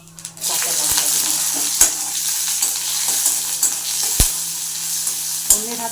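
Green chillies, added after black cumin seeds, sizzle loudly in hot oil in a wok, a steady crackling fry broken by several sharp clicks and scrapes of a stirring spoon against the pan.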